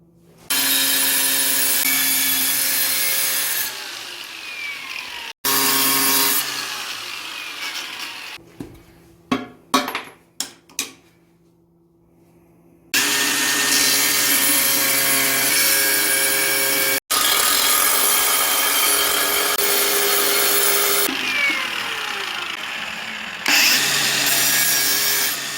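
A power tool cuts out a marked section of tile during a water fitting repair, its loud whining, grinding cuts coming in long runs broken by a few sharp knocks and a short pause.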